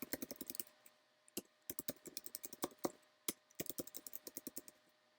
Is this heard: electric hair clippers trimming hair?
no